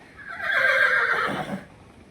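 A mare whinnies on a farm, one loud, drawn-out neigh that rises and trails off over about a second and a half, heard alone with no talk.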